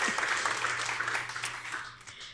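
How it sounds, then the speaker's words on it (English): A lecture audience applauds to welcome a speaker to the stage, a continuous mid-level wash of clapping that gradually thins out. "So now let's continue that applause and welcome Abby Smith Rumsey."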